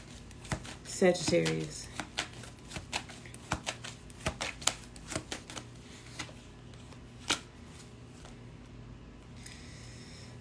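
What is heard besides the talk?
shuffling tarot cards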